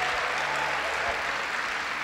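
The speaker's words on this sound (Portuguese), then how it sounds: "Vamos dar um aplauso a Jesus por essas vidas salvas?" A church congregation at a worship service applauds, a dense, even roar of clapping from a large crowd, sustained and somewhat distant.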